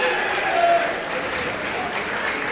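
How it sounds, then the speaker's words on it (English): A Clearview crowd applauds the 145-pound champion at a district wrestling final, a steady, dense wash of clapping that holds loudly for the whole stretch and swells slightly early on. "there's your champion at 145 as he gets the appreciation from the Clearview crowd"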